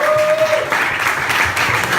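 An audience at a startup pitch night applauds the first pitcher, a short, loud burst of crowd clapping lasting about two seconds, with a steady tone ringing faintly beneath at the start.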